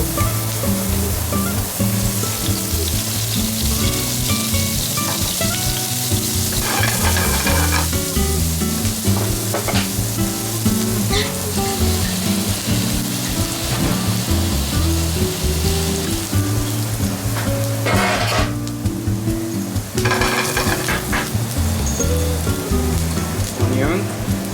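Garlic and ginger frying in olive oil for sticky pork spare ribs, a steady close sizzle that crackles continuously throughout with brief louder bursts, no talking over it.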